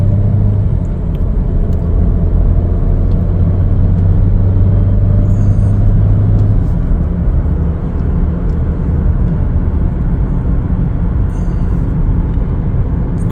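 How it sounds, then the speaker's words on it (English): A 2024 Chevrolet Equinox AWD LS on the road, giving a steady, loud low rumble of engine and tyre noise that holds throughout, with a droning low hum in the first half and no voices. "We're going to go ahead and take it for a little test drive here."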